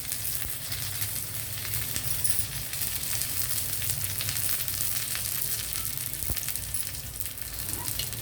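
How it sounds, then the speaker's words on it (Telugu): Tempering spices sizzling in hot oil in a pan for an Andhra chana dal coconut curry, a steady close hiss and crackle that runs on alone with a brief clink partway through. "ఇక్కడేమో తాలింపు చేస్తున్నాను"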